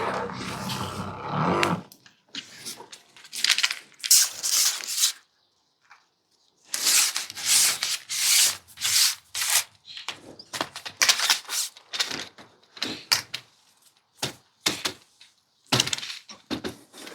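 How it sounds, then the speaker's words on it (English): A conservatory roof is scrubbed with cleaning solution in bursts of loud, close brushing and scraping strokes, broken by short pauses and near-silent gaps. "So I'll just get this side done, scrub it in, and then give it a rinse down"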